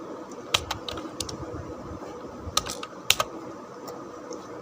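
Someone types Arduino code on a computer keyboard, sounding a close series of crisp, uneven key clicks in short bursts with brief pauses, over a quiet room hum and with no speech.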